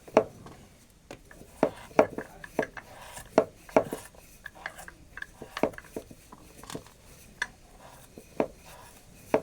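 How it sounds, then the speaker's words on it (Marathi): Potatoes being chopped into pieces with a knife, a series of sharp, irregular close knocks on a cutting board, some louder than others, with faint handling noise between strokes. "मी अशात बटाट्याच्या फोडी करून घेतो"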